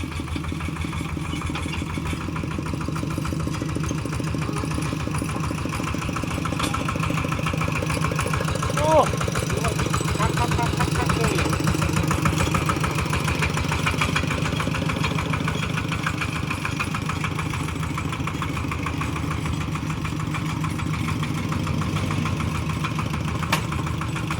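An ET 95 engine runs steadily through a gearbox test, with a continuous close mid-pitched idle drone and a slight rev change partway; someone talks over it.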